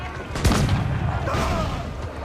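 A swivel cannon fires in Assassin's Creed IV Black Flag, a loud booming blast at the start followed by a rumbling tail and scattered battle noise.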